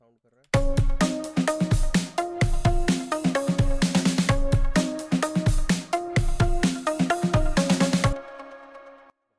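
Melodic synth from the FLEX stock plugin in FL Studio, playing a steady rhythmic pattern of bright layered chords and notes for about eight seconds, loud and alone, ending with a brief ringing tail.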